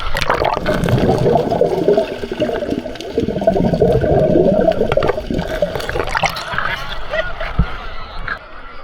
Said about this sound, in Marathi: राजन दादा माझ्यासोबत उडी मारतोय